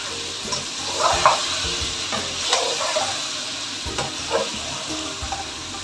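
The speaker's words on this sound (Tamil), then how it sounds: "இப்போ வந்து நீங்கள் இதில் கத்திரிக்காய் போட்டுக்கலாம்" Eggplant pieces hit hot oil with masala in a pan, giving a steady loud sizzle with occasional stirring scrapes and crackles throughout, and no voices.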